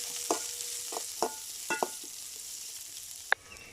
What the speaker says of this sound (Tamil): இங்கே வெங்காயம் வதங்கிட்டு இருக்கும்போது